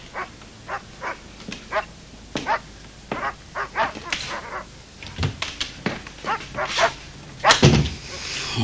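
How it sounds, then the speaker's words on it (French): Dogs bark repeatedly at night, with sharp barks and yips in an irregular rhythm, some close and loud, a louder cluster near the end, and a few whimpers between them. "Oh, ces chiens."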